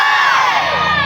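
Audience at a live Mamanda folk theatre performance cheering and shouting, a loud dense crowd roar of overlapping voices filling the whole moment.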